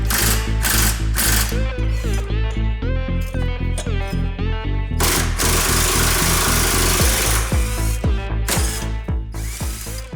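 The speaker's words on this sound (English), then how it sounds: "you'll have to undo this 10mm bolt to remove it from the bracket" A ratchet wrench clicks rapidly and loudly while undoing a 10mm bolt on the suspension of a 2002 Subaru WRX, in bursts of fast ratcheting with a short pause midway.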